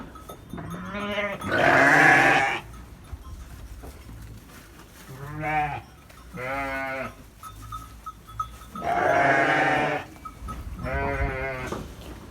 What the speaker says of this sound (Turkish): Kurbanlık iki tane tekemiz var. Bir de koçlarımız var.